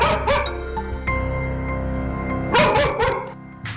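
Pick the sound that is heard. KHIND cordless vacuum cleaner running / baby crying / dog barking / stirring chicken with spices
dog barking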